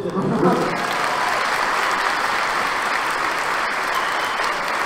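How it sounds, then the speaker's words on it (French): Audience at a manga convention panel applauding loudly, a dense continuous roar of clapping that holds steady and near throughout, with faint voices mixed in. "C'est beau, applaudissements"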